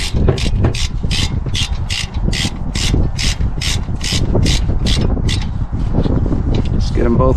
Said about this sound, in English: change my ratchet over to Tighten